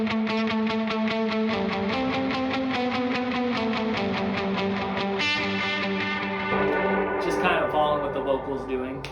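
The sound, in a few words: electric guitar with reverb and delay effects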